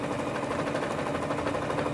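A sewing machine stitches a quilt with a close, rapid, even mechanical chatter that runs without pause through the short stretch.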